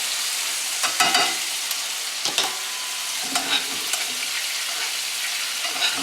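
Haddock fries in butter in a pan with a steady close sizzle, broken by several louder spattering bursts as butter is spooned over the fish.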